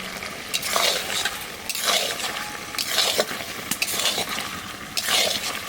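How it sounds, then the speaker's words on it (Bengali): Mutton with spice powder frying in a pan, a loud continuous sizzle with repeated rhythmic scraping and stirring strokes every second or so, close up with no voices. "মশলার গুঁড়িটা দিয়ে 5 মিনিট কষাবো।"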